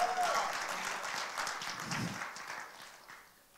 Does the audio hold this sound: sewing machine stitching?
no